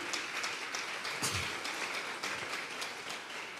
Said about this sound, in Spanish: De un aplauso a los que le pertenecen al Señor.